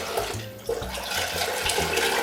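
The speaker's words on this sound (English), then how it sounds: "Let's add 6 cups of water to each one." Water pours from a tap or jug into a pot, six cups for a mac and cheese cooking pot, a steady close splashing stream with shifting gurgles and no talk.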